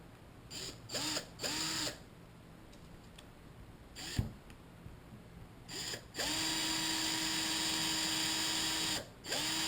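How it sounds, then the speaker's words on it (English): A small drill bores a little hole in a metal AR-15 part with several short whining bursts, a sharp click, then one longer steady high-pitched run lasting about three seconds, all close and fairly quiet. "this line is where we want to drill our little hole"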